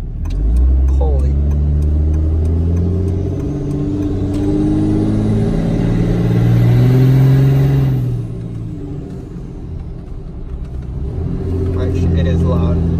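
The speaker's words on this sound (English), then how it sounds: "Show you as best as possible how that turbo sounds." 2005 Cummins diesel with the turbo silencer deleted and an S&B cold air intake, rumbling and revving in loud surges with a rising turbo whistle, close by, while people talk over it.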